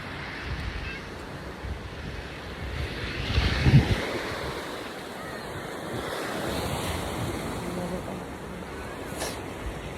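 Ocean waves washing on a beach at low tide, a steady rushing surf under strong wind buffeting the microphone, with a louder surge partway through.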